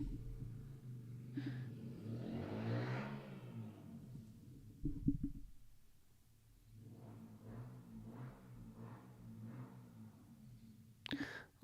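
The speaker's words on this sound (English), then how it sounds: "Why is some twat like revving his engine?" A car engine revs nearby in a few rising and falling bursts, fairly quiet and rumbling, with low indistinct talk around it.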